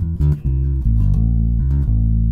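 Bass guitar plucked over the neck with a softer, rounder tone, a few close, loud, deep sustained notes in slow succession, with no talk over them.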